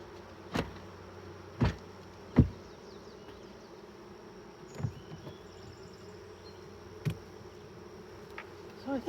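Honey bees buzz steadily at a hive. Individual bees pass close to the microphone as short, louder whooshes over a faint, constant drone.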